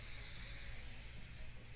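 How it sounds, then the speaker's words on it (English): 505 spray adhesive hisses steadily from an aerosol can onto quilt batting, a continuous close spray lasting a couple of seconds without pauses. "now we're going to take the 505 spray and we're going to spray the"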